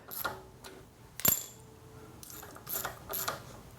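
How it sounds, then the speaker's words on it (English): Ratchet wrench snugging the wheel nuts on a vintage Vespa rim, a few quick clicking bursts with short pauses between them, close and fairly quiet. "I'm able to quickly ratchet the ratchet."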